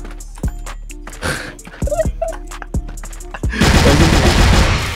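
Valorant gunfire: about half a dozen sharp single shots crack at uneven intervals, then a dense sustained burst of rapid fire takes over for the final second or so, loud and close.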